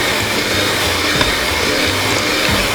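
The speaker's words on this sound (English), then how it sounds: "use our whisker, not the whisker but the beater, the hand mixer, okay, to beat" An electric hand mixer beats butter and sugar for cupcakes, giving a steady, loud motor whir with a continuous, even drone throughout and no talking.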